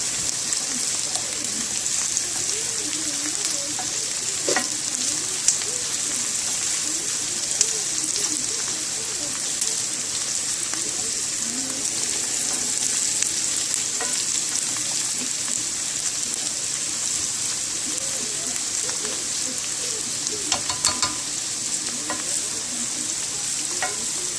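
Okra sautés in a pan next to onions, a constant close sizzle broken by the scrape and clatter of stirring, with occasional sharp utensil knocks and no talking.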